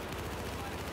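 Gunfire from the video game Battlefield 4, sniper shots in a busy multiplayer match, a dense burst of shots over one second mixed with game noise and voice chatter.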